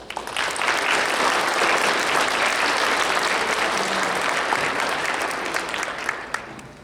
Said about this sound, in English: Let's give them a big round of applause for their dedication.